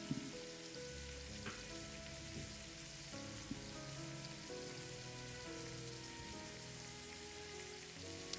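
Spiced prawns fry over high heat in a pan, giving a steady, faint sizzle and crackle like light rain, with occasional soft taps of stirring.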